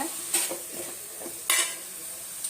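Cut drumstick pieces are sautéed with onion and tomato in a pan, giving a steady soft sizzle with a few scraping stirs of a spoon, close and alone.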